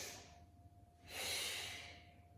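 A soft breathy exhale during a Pilates roll-up, close and faint: a brief airy breath, then a longer, stronger rushing exhale lasting about a second.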